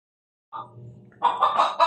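A Texas chicken kept at home and timid around people gives a few close, short clucks after a brief silence, the last ones louder and bunched together.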